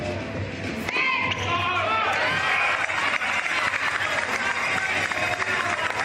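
Inferno fans chant in the crowd at an INTENNSE tennis match, Fortune vs Inferno, in the INTENNSE Arena. A sustained, fairly loud crowd roar carries voiced, chant-like tones, with a thump near the start.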